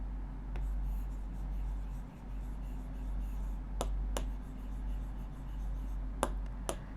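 A pen writes numbers by hand on paper, making faint, continuous scratching strokes over a low steady hum, with a few sharp taps scattered through.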